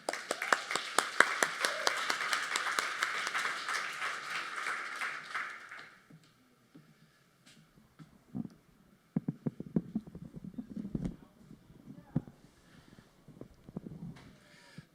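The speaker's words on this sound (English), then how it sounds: "Let's give a round of applause to Bodo Hoenen." Dense audience applause at a talk greets a speaker, a loud run of many clapping hands for about six seconds that cuts off into quiet, followed by scattered taps and shuffling.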